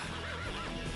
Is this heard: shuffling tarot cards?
no